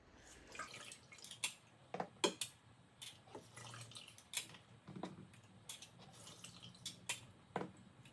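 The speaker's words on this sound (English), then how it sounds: "So I'm gonna add some lime." Limes squeezed by hand over a batch of homemade pineapple tepache, giving soft, scattered drips and small wet clicks spaced irregularly in a quiet kitchen, close and faint.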